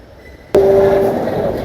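A metro train arrives at a station: a sudden loud onset brings a steady low rumble with a sustained tonal whine that holds for about half a second, then fades into continuing rolling noise.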